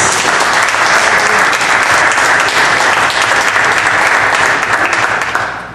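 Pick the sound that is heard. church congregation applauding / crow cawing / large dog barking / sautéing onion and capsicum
church congregation applauding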